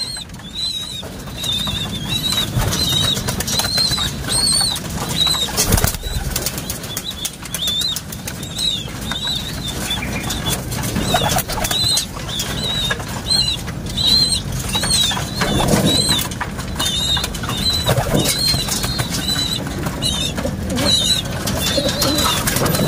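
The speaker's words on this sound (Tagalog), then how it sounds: "at unti-unti nang lumalabas ang ating mga ibon upang ipagpag nila ang kanilang mga katawan" Pigeons emerging from a loft and shaking out their bodies, a busy texture of wing flaps, rustling and pattering that continues throughout, with soft cooing and chirps scattered above it.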